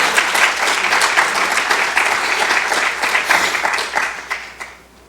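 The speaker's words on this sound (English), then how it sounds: "Round of applause." Sustained applause from a large audience at conference opening remarks, dense and steady throughout, then tapering off near the end.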